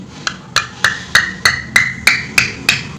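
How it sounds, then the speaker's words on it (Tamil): Holes being punched one at a time in a jar lid to make six openings, heard as nine sharp, evenly spaced metallic taps with a ringing tone, close and loud, without talk. "இந்த மூடியில் ஒரு ஆறு ஓட்டைகள் போடணும்"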